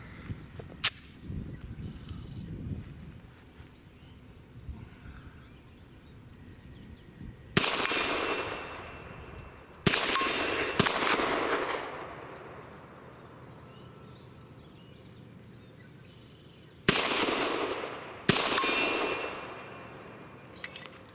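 Pistol shots from a CZ TSO Tactical Sport Orange at an outdoor range, each a sharp distant crack followed by a ringing ping of steel at 80 yards: one early shot, then a pair, another single, and a final pair spread apart.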